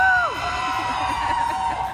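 A convention crowd cheering and whooping for a dog named Donut, a short burst of loud, dense cheers with a whistle-like tone sliding down at the start.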